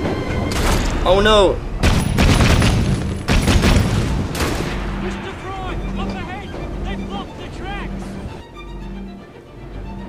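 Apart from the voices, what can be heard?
gunfire and explosions in the video game Assassin's Creed Syndicate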